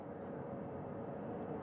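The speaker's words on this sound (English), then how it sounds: "Helicopter 1 again hovering 40 feet over the front porch." A helicopter hovers about 40 feet above the front porch of a recovery ship after a crewed spacecraft splashdown, heard as a steady, continuous distant engine and rotor drone with no talk.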